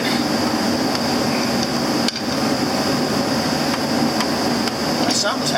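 Impact gun hammering steadily on a large 1 5/8 nut of a John Deere 6200 tractor, a loud continuous rattling burst with one brief pause, heard up close in a shop with a constant background hum.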